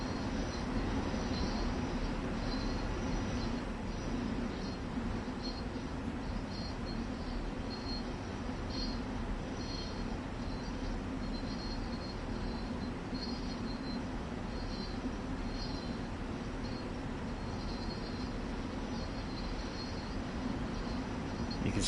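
A Long Island Rail Road train in the Train Sim World game runs steadily on its rails, giving a continuous low rumble with faint rhythmic clicks and squeal, with no talk over it.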